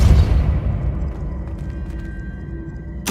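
Depulso force spell blasting in Hogwarts Legacy: one loud, deep booming burst at the start that rumbles and fades over a few seconds, with a second burst starting near the end.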